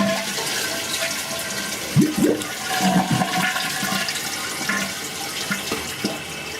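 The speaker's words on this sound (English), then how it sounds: "give her one more flush to make sure" A toilet flushes on a Fluidmaster 400 fill valve fitted with a replacement seal, water rushing then settling into the tank refilling, steady and close with no talk.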